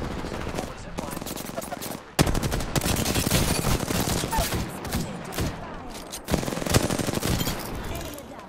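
Sustained automatic gunfire in the battle royale game Apex Legends, loud and close, with rapid bursts of shots that pause briefly a few times and then resume.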